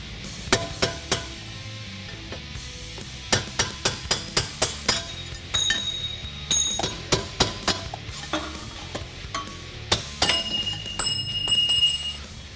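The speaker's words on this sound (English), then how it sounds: "Now you want to grab a large punch so you can work out the bearing races." Large metal punch hammered to drive bearing races out of a Ford 8.8-inch rear axle housing, a string of sharp metallic strikes in uneven bursts, close and fairly loud with no talk.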